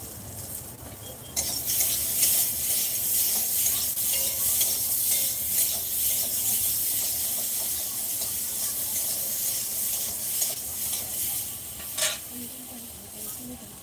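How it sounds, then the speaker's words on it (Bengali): Rohu fish cooks in a pan with a constant loud sizzle and hiss, broken by occasional stirring and scraping, with no talk over it. "তো এখন রুই মাছ রান্না করছি"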